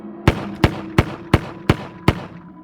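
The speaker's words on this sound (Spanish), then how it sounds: "Siguieron unos disparos." Six sharp gunshots ring out in a steady, evenly spaced series, each a loud broadband crack with a short decaying tail, heard alone with no voices.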